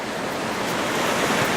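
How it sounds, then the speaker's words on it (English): Ocean waves wash in on a beach below rocks, a continuous, fairly loud rushing hiss of surf close by with no voices. "waves coming in"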